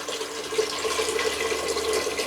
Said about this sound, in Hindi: और अब हम इसमें डाल देंगे 2 गिलास पानी के